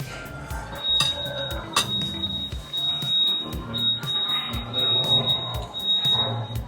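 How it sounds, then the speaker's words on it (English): A smoke alarm shrieks with a steady high-pitched tone inside a restaurant, joined by sharp repeated beeps, over clattering dishes and background noise. "That's so bad that the alarm had to go off."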